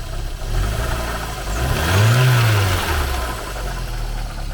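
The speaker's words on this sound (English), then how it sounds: "and it is idling" A Porsche 924, abandoned and bought cheap, idles roughly with a loose belt and strange noises, a steady low engine drone with a slight swell in the middle, close and continuous.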